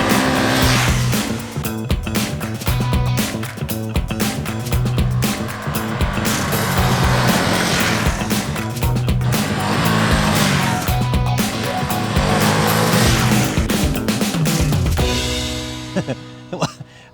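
A 2021 Ducati Monster motorcycle is ridden, its engine loud and sustained for about fifteen seconds, with the revs rising and falling through gear changes before the sound fades away at the end.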